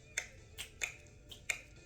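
Fingers snapping four times in an uneven rhythm, each snap a sharp, crisp click against quiet room hiss with no voices.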